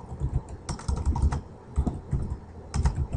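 Fingers type the gpupdate command on a computer keyboard, a close, steady patter of key clicks with short pauses between bursts and no voices.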